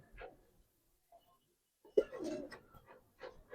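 Giribaz pigeons cooing softly in short bursts, a faint low coo early on and then fuller throaty calls, with pauses between them.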